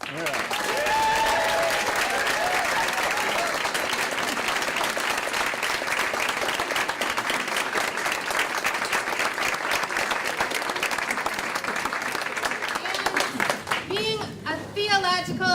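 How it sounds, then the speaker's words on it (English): Sustained audience applause at a community sustainability gathering, dense and steady throughout, with a voice starting to speak over it near the end. "So let's clap for all of those."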